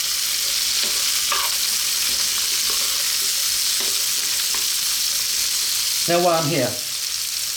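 Sliced onion and carrots fry in a pan with loud, continuous sizzling and occasional stirring scrapes. Someone speaks briefly over it near the end.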